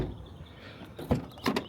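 Dodge Magnum car door swung open and shut, a soft creak followed by two close thuds of the door latching, short and near.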